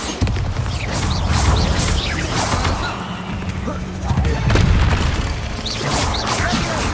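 Confringo and Bombarda spell blasts in Hogwarts Legacy go off as loud, repeated booming bursts that pile into a dense, continuous roar of in-game combat noise.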